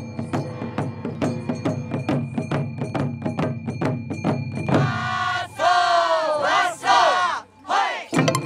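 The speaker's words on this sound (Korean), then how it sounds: "행렬 내내 들리는 구호는 조선통신사가 도착을 알릴 때 왓소라고 말하는 것에서 유래했다고 해요" A crowd chants "wasso" in rhythm during a Korean envoy procession festival in Japan, with steady repeated percussive beats followed by loud massed shouting voices nearby.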